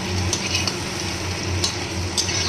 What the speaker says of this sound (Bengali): মশলার সাথে মাছটা কষিয়ে নিলাম